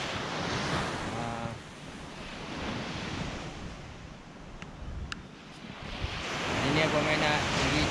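Ocean waves wash onto the beach at Pantai Segari in a continuous roar, with wind buffeting the microphone and the surf swelling louder toward the end.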